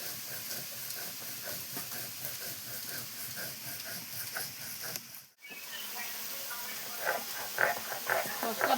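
Spices and salt fry in a pan for an Andaman-style crab curry with a steady, quiet broadband hiss. The hiss dips briefly midway, then resumes with faint crackles.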